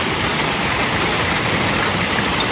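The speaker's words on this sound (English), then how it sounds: "Look at this hailstorm." A hailstorm in the Montana mountains, ice pellets pelting surfaces in a dense, continuous clatter, loud and steady throughout with no talking.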